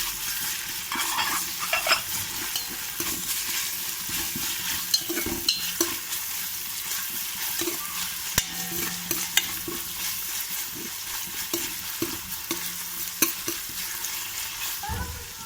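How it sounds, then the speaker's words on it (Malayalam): Curry leaves sizzle and crackle in hot oil in a chicken biryani pan, with steady frying noise and repeated scraping stirs and utensil knocks running throughout, close and moderately loud. "അതിലേക്ക് നമ്മുടെ വേപ്പില ഇട്ട് കൊടുക്കാം"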